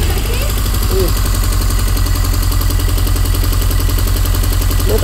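A car engine with a faulty ignition coil runs close and loud, rumbling unevenly throughout as it stumbles and struggles to stay alive.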